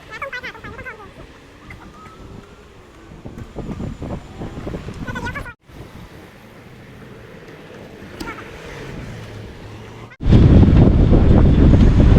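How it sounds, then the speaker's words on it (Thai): Strong wind buffets the microphone outdoors, a rough roaring rumble that rises and falls and then surges much louder in the final seconds, with a voice and other faint sounds underneath. "อาจจะลมแรงหน่อยนะคะ"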